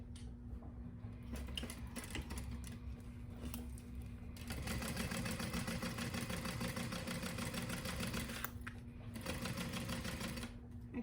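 A sewing machine stitches a seam on a square crossbody bag, running in a steady, rapid mechanical patter close up, briefly slowing and pausing, then resuming at a quicker pace, with no talking over it.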